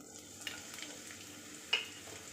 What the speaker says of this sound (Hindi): हम इन्हें भून लेते हैं, थोड़ा सा फ्राई कर लेंगे